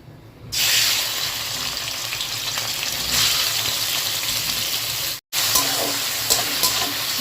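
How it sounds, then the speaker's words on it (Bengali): Prawns frying in mustard oil in a wok: a loud, steady sizzle starts abruptly and holds for seconds, broken by one brief cut, with stirring scrapes and crackles near the end and no talk. "এবার চিংড়িগুলোকে ভেজে নেব।"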